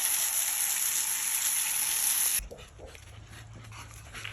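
American bully dogs play outside, heard as faint scuffling and soft whimpers after a burst of broadband rain-like hiss stops partway through; no talking.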